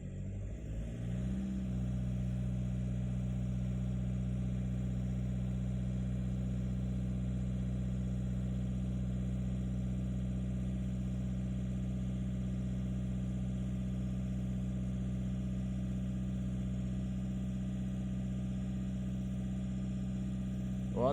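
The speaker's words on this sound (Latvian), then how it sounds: "dodam apgriezienus." A VW Caddy 1.9 PD diesel with a cylinder 3 misfire revs up from idle and then holds a steady, raised drone. The engine sound is close, constant and buzzing, with a brief change at the very end.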